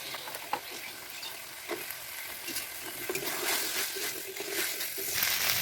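Fried potatoes and cut vegetable stalks stir-fried in a pan, giving a soft, steady sizzle with occasional scraping stirs and a few wet splatters, quiet and close.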